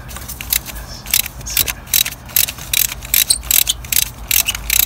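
Ratchet wrench loosening a part during a service on a 2016-onward Smart ForFour, a close series of rapid metallic clicking bursts in uneven rhythm, about a dozen strokes.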